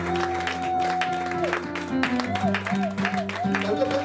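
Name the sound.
church congregation applauding and cheering for Jesus Christ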